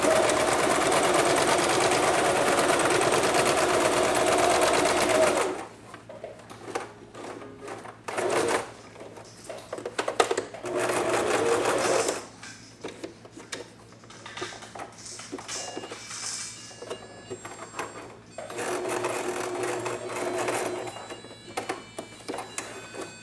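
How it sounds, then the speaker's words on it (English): Sewing machine stitching cloth training pants, running forward, back and forward again in short whirring bursts of varying length, with pauses between runs and no voices. "Go forward and back, and then forward again"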